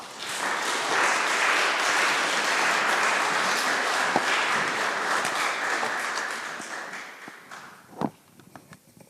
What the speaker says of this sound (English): Please do give him a warm round of applause.